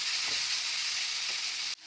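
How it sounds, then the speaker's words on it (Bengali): Chicken sizzles steadily in a pan as it fries for spring roll filling, a close, even crackle that cuts off abruptly near the end. "ভালো করে ভাজা ভাজা করে নেবো"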